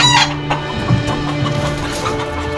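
A flock of about seventeen or eighteen Fayoumi hens clucks near the listener, with repeated loud, overlapping calls and squawks and no talk.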